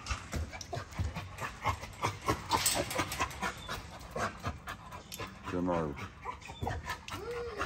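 Puppies pant and whimper close by, with rhythmic breathy panting and occasional high whines, while a person speaks briefly over them.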